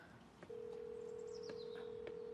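An unanswered phone call in a Hindi-dubbed drama sounds as one steady electronic tone. It starts after a short quiet lead-in and holds unbroken at a moderate level.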